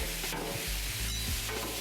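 Vegetables tossed on a hot Blackstone griddle while making Cajun fried rice, giving a steady close sizzle with stirring and scraping bursts roughly every half second, with no voices.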